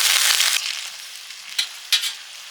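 Water poured into a pan of hot onion-flavored oil sets off a loud, close sizzle that fades after half a second into a steady softer frying hiss, broken by two brief splattering bursts.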